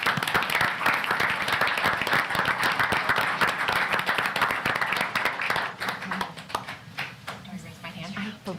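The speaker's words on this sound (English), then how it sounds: "And we could clap." Applause at a school board of education meeting, a steady wash of many hands clapping from a seated audience in a meeting room, tapering off near the end as a voice begins under it.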